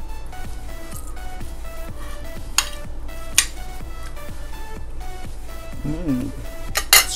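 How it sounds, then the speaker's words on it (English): Chicken curry with coconut milk stirred and simmering in a pot, with soft squishing, occasional clinks of a utensil against the pan and a low steady bubbling background. "after you put the coconut milk, you can just mix well, then simmer for 5 minutes"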